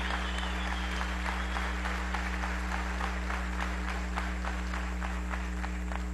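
Applause during a national assembly session, steady crowd clapping heard at a distance over a strong low electrical hum, with rhythmic sharper claps running throughout.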